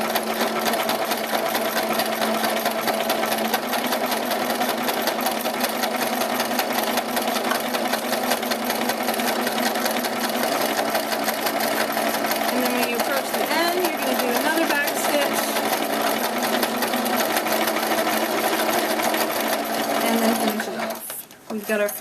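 A sewing machine stitches the fabric side of a Fionna hat, a steady continuous motor whir running close and loud for about twenty seconds before easing off and stopping at the end.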